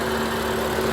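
A 2018-era F90 BMW M5 Competition engine idles with a steady, even drone heard up close, no voices present.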